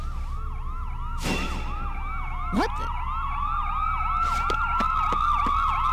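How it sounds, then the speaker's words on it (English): Several ambulance sirens from the video game Trauma Team wail at once, overlapping yelps and sweeping tones over a low engine hum, with a short spoken exclamation and a few sharp bangs mixed in. "Ambulances. Tons of them."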